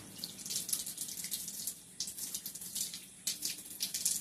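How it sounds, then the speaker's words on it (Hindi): Tap water runs steadily into a sink while the nose is rinsed during wudu, ritual washing before prayer, with a continuous hissing splash broken by short gaps as hands move under the stream, close and fairly loud. "आप दाएं हाथ से नाक में 3 मरतबा पानी चलाना है।"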